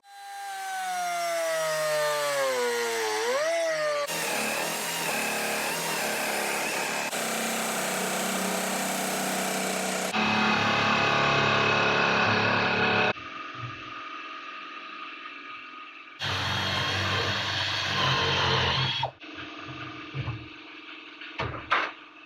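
A power tool cuts holes into the hood of a Jeep XJ for vent installation, a loud continuous grinding whine that shifts pitch and stops and restarts in several segments, close and alone without talk.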